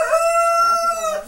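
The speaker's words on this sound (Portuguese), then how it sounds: "Tem a cantiga do galo" A rooster crows once on a rural farm, loud and close: a clear drawn-out call rising and falling over about a second, alone without talk.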